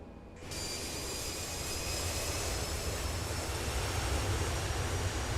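An airliner in Microsoft Flight Simulator roars steadily through a go-around, a broad continuous jet-engine rumble that kicks in abruptly and holds at constant strength.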